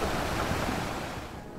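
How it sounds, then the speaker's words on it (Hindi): Deep sea waves roar in a storm as a steady, dense wash of broadband noise, loud and close, fading only slightly over a moment. "इनके हर तरफ गहरे समंदर की लहरों की हैबतनाक आवाज़ें थीं।"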